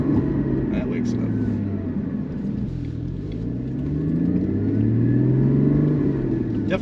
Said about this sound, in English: Definitely getting some more pronounced growl out of the exhaust with that those valves open.